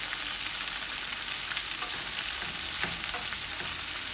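Shrimp fry in a pan with a continuous crackling sizzle and scattered sharper pops and spatters, moderately loud and even from start to finish, with no talking.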